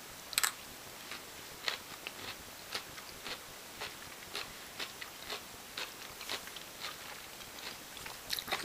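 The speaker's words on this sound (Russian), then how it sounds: "Тщательно пережевываем." Close, thorough chewing of solid food, with soft rhythmic crunches and bites repeating steadily in a quiet room.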